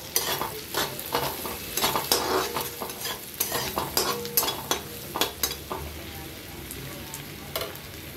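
Chopped green chilies sautéed in a frying pan, a steady soft sizzle broken by repeated scraping and stirring strokes of a utensil against the metal.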